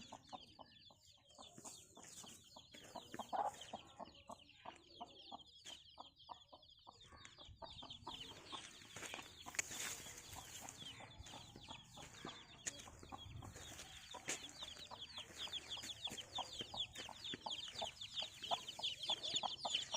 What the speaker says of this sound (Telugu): కోడిపిల్ల చిన్న పిల్లని